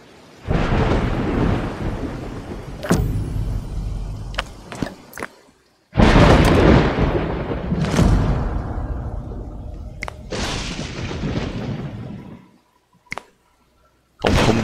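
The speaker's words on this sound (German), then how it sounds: "Ein Sturm zieht auf." Thunderstorm in the survival-strategy game Dawn of Man: loud rolling thunder rumbles in long bursts over steady rain, with sharp cracks between the rolls and brief near-silent gaps.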